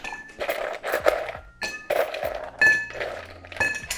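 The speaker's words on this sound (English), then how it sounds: "Grab our ice, crack our first cube here, and then add the rest in here." Ice cracking and cubes clinking into a mixing glass for a cocktail of bonded apple brandy and blended Scotch, with several close, sharp knocks and clinks spread across the clip.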